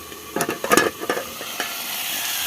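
Vegetables stir-fried in a pan, with a steady close sizzle and a few sharp scraping stirs over the first second.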